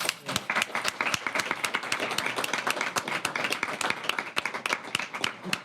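A moderate crowd at a city council committee meeting claps steadily, individual sharp claps distinct within a lively, sustained round of applause.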